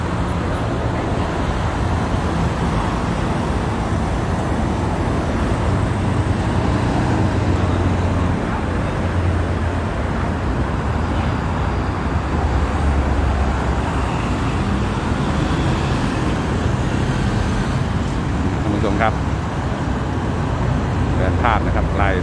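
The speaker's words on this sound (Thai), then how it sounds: "การจราจรติดขัดยาวเลยนะครับ" Steady roadway noise from cars and other vehicles crawling in a long traffic jam at a police checkpoint, a constant dense rumble throughout with faint brief higher sounds near the end.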